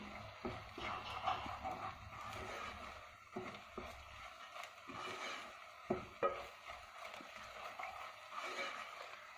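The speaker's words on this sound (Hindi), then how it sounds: "तकरीबन 1 मिनट इसको भूनें।" Chicken bread filling roasting in a pan while being stirred, a quiet sizzle with intermittent spoon scrapes and knocks against the pan, close and unhurried.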